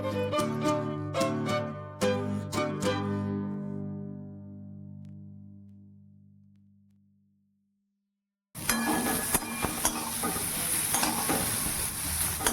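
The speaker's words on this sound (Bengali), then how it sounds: "ফুলকপি গরম জলে ভাপিয়ে ভাজা চাপিয়ে দিলাম।" Steamed cauliflower drops into a kadai of oil left over from frying luchi and sizzles loudly and steadily, starting abruptly after a ringing tonal passage fades into silence.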